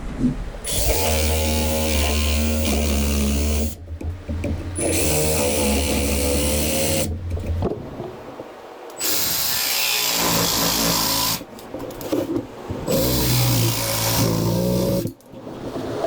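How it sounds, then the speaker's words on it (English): A jigsaw buzzes loudly through wood in several long bursts, with short pauses between cuts and a steady motor hum throughout. "I'll use the jigsaw to cut this out."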